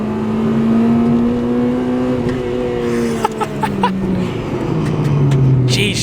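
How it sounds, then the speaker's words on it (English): A 2002 Honda Integra Type R DC5 engine revs hard and close, its pitch climbing then easing down through a sustained, loud note, with a brief clatter and a short voice near the end. "She revs for days"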